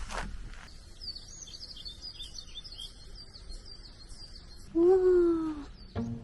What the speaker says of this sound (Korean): 여기 이상하게 새소리가 울려서 더 크게 들려요.